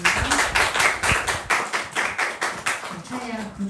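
A church congregation claps in unison to give thanks during a Sunday worship service, a rhythmic series of roughly a dozen synchronized claps at a steady beat, with faint voices underneath.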